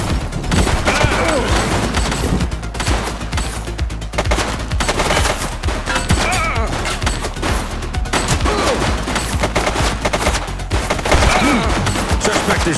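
Sustained, dense automatic gunfire rattles loud and near in a police shootout in the video game The Precinct, with rapid overlapping bursts and impacts running throughout, nearly without pause.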